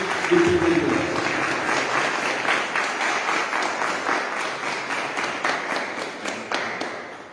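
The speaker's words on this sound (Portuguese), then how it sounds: "Uma salva de palmas aos casais aqui da igreja." A church congregation applauds couples at a matrimonial vow renewal ceremony, with a brief voice near the start, then steady, full clapping that continues for several seconds before tapering at the end.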